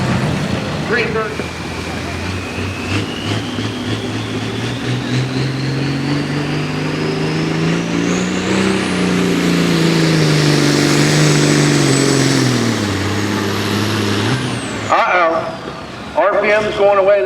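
A Shed Shaker pulling tractor roars loudly at a tractor pull, its engine climbing in pitch, holding high revs, then dropping off quickly as RPM falls away, followed by brief crowd or announcer sounds.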